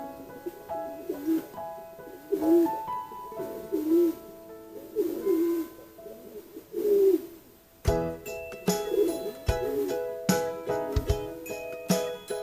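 A male pigeon coos repeatedly while courting a female, with close, rhythmic coos and sharper clattering and tinkling sounds in the latter half.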